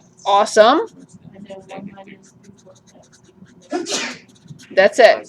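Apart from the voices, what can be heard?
sneeze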